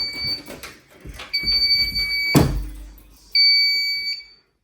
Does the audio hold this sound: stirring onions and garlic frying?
no